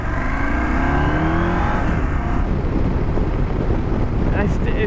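A 2023 Husqvarna Norden 901 adventure motorcycle accelerating hard, its engine revving and rising in pitch under heavy wind rush, loud and close from an onboard microphone, then fading into steady wind noise.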